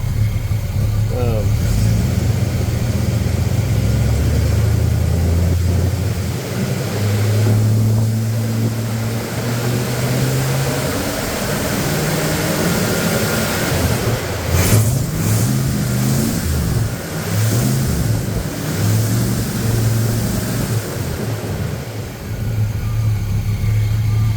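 A Studebaker Avanti car engine with a misfire idles and then revs up and down several times, with rising and falling pitch, close by and loud, with a voice talking over it at points.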